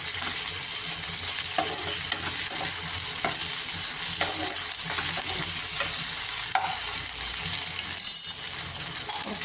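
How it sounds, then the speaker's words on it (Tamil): Ginger garlic paste sautéing with onions in a pan for prawn biryani, a continuous close sizzle with occasional spoon scrapes and clinks against the pan. "இஞ்சி பூண்டு பேஸ்ட் போட்டு நல்லா வதக்கணும்."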